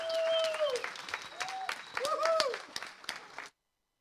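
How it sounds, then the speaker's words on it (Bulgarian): A church crowd welcomes its pastor with applause, cheers and whistling: scattered sharp claps mixed with rising and falling whistles and shouts, fairly close, before cutting off abruptly near the end. "много топло с аплодисменти, викове, свирене"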